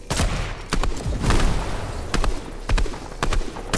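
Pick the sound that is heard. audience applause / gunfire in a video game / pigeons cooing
gunfire in a video game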